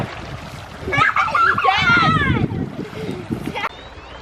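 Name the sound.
splashing water at someone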